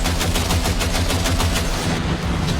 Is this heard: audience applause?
no